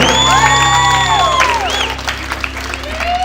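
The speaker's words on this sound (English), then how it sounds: "One more round of applause for your bride and her father" Wedding guests at a Huntington Beach reception clap and cheer loudly in a steady burst, with whoops and a sustained tonal sound over the crowd noise.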